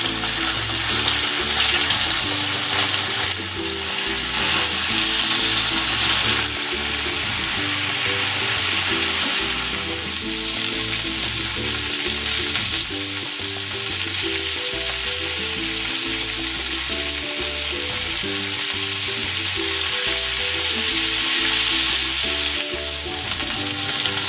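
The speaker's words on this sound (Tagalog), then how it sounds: "Pan-fry ko muna itong chicken." Chicken pieces pan-frying in hot cooking oil give a loud, continuous sizzle and crackle, close up and steady throughout with no talk.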